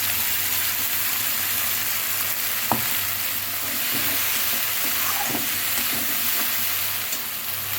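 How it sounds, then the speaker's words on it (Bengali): Fried eggplant sizzles in a pan after mustard, poppy seed and green chili paste are added; a continuous close hiss carries a few sharp taps and scrapes of stirring, with no talking. "বেগুনটা ভাজা ভাজা হয়ে গেছে এবার শস্য পোস্ত কাঁচা লঙ্কা বাটা দিয়ে দিলাম"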